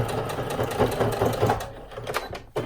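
A sewing machine runs a steady, continuous stitch across the edge of a zipper bag, close and fairly loud, with a brief pause and restart near the end.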